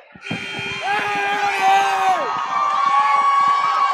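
Basketball fans of Cheyenne South pack a high school gym with loud, steady cheering and shouting, whistles and a rising call ringing out over the din while voices yell close by throughout.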